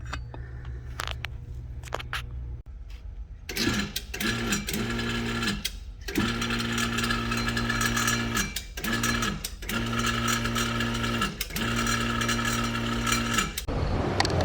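Wheel studs being pressed into a Honda Civic hub during a suspension rebuild: a close mechanical whirring runs in repeated on-off bursts, with short pauses between presses.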